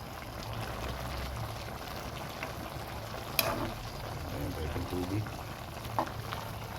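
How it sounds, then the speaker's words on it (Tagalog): Coconut milk poured into a pan of simmering shrimp with squash and vegetables, giving a steady low sizzle and bubbling throughout, with a couple of faint clinks near the end. "Lagay mo na yung gata."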